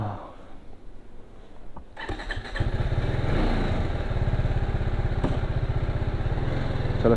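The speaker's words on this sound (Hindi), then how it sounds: "अभी बाइक वार्म अप भी हो गई है, कोल्ड स्टार्ट दे दिया था बाइक को" A warmed-up superbike engine runs after a cold start, quiet at first and then a loud, steady, throbbing idle with rhythmic pulsing that continues to the end, heard close by.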